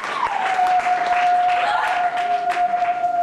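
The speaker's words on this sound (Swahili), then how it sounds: "Kwa Bwana makofi, glory, hallelujah" Church congregation clapping in a loud, sustained burst of applause, with a sustained tone ringing above and voices calling out among the claps.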